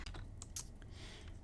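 Soft, quick tapping on a computer keyboard, a few faint close keystrokes over a low background hum.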